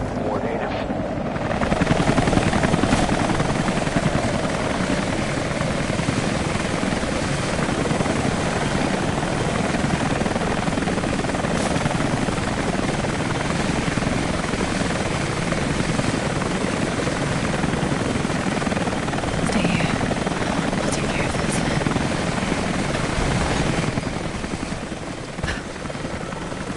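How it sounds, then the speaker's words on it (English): A helicopter's rotor thrums steadily and loudly for the whole stretch in the Tomb Raider video game, a continuous chopper drone without letup. "Command Post 2, last chopper outbound."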